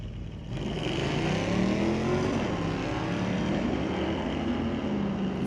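Drag race cars at an NHRA Division 6 ET Finals team race at Mission Raceway Park launch off the line, a loud sustained engine roar rising in pitch and holding steady with no talk.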